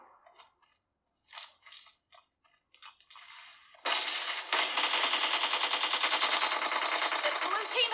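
Mobile shooter team deathmatch gameplay starts with scattered faint clicks and taps, then sustained rapid automatic gunfire bursts in a fast steady rhythm, loud and close, running to the end.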